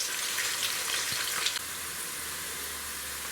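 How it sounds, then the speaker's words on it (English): Chopped onion frying in a pan, a steady close hiss of sizzling oil with a few brief stirring scrapes early on, then settling into an even, unbroken sizzle. "And then you fry the onion until it's golden brown"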